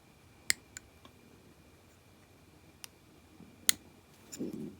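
A few sharp, faint snips sound as small bits are trimmed off a custom Star Wars action figure, spaced out irregularly in an otherwise quiet room.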